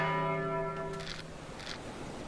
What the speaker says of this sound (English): Actually, can I hit the bell?